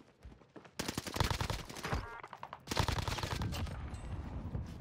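Rapid automatic gunfire in the Call of Duty Warzone video game, with a no-recoil AK-47 setup: two loud sustained bursts of dense shots separated by a short pause, followed by a lower rumbling tail.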